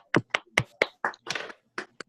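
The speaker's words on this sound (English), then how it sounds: "give a round of applause for her" Someone in an online club meeting gives a few distinct, separate claps for Tricia, close to the microphone and spaced irregularly, with no talking.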